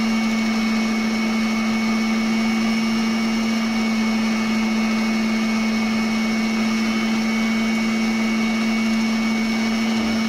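An electric mixer whips orange cheesecake dessert mix, a loud, constant motor whir with a steady high hum that runs unbroken for about ten seconds, with no talking.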